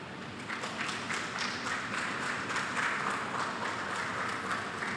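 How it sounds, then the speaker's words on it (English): Sustained applause from a large crowd at a primary school graduation, steady dense clapping filling the whole stretch at moderate distance with no voices on top. "I now ask my colleagues to stand and give you a hearty round of applause"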